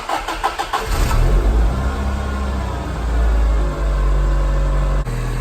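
A car engine cranks with a rapid ticking starter for about a second, catches, and settles into a loud, steady idle up close with no talk over it.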